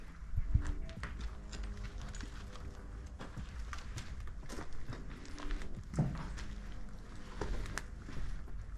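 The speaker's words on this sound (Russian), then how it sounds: "Ты не слышал сзади шаги какие-то?" Footsteps sound inside an abandoned building at night: faint, scattered steps and light knocks, distant and quiet against low rumbling room noise, with no talk.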